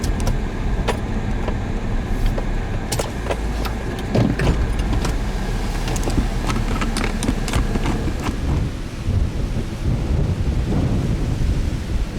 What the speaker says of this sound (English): Standing in front of a crazy high precipitation supercell right now.